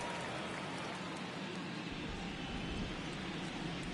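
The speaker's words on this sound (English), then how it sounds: "No signs of the rain slowing down here in Atlanta so far" Rain pours down steadily at an Atlanta baseball stadium during a World Series game, a faint, even hiss of falling water heard alone, with no distinct voices.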